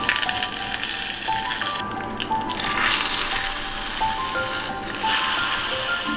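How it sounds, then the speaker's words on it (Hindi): Dry chilies, mustard seeds, cumin and curry leaves are tempered in hot mustard oil for a curd dish, giving a steady, dense, close sizzle and crackle that runs without a break, with no talking. "फिर से एक बार मस्टर्ड ऑयल में छौंक लगाइए सूखी मिर्च,"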